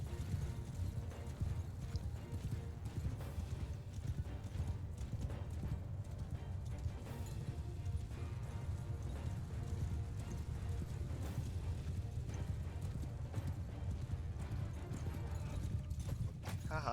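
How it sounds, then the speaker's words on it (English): Cavalry horse hooves pounding in Mount and Blade 2 Bannerlord, a dense, continuous rumble of many galloping hoofbeats with occasional whinnies, steady and loud for the whole stretch. "the thundering of the hoofs of the cavalry"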